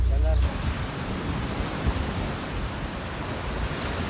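Strong sea waves and gusting wind roar at the shore in a continuous, loud wash of noise, with wind buffeting the microphone throughout.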